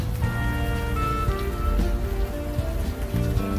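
Steady rain falls on a city street in the video game Unavowed, a constant hiss and patter of drops under a low ambient music bed, with no talking.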